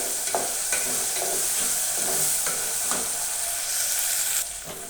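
Potatoes fry in oil for a fasting-day khichdi, a steady loud sizzle with soft hiss and occasional spatula scrapes, ending in a slight drop.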